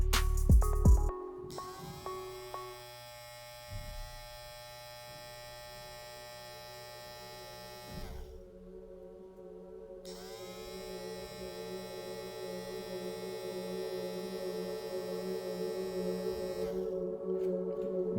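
Ubeator hair trimmer fitted with a Madeshow GTX blade runs at 7,200 RPM, giving a steady, low electric buzz with mains-like hum that holds close and continuous after a brief switch-on clatter, with one short drop in the middle.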